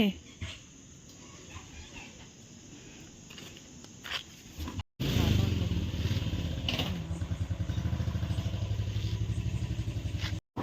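A scooter engine hums steadily close by as it is ridden, its pulsing drone loud and continuous over the last half of the clip after a brief cut, with faint background sounds and scattered voices before.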